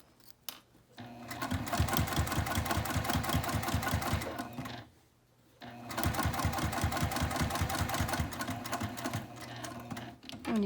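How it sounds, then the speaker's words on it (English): A sewing machine stitches over zipper coils while sewing a fabric sling, running in two fast, even bursts of rhythmic needle clatter separated by a short pause, close and fairly quiet. "I'm perfectly comfortable sewing over those coils"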